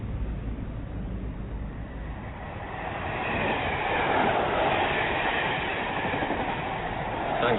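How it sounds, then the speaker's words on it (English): Train passing by in an audio drama scene, a broad rumbling roar that swells from a distant approach to a loud, close passage with rolling wheel noise, heard alone without voices. "I like to watch the trains go by"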